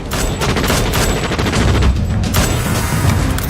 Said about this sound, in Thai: เสียงปืนมาจากทางนู้นอ่ะ